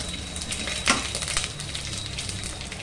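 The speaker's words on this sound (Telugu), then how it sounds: "ఉల్లిపాయలు వేసుకున్నాను" Onions frying in a pan after urad dal, cumin and mustard seeds go into the hot oil for a bitter gourd curry, a continuous moderate sizzle with occasional light spoon scrapes and a soft clatter.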